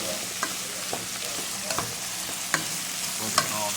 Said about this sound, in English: So now we'll stir our vegetables together.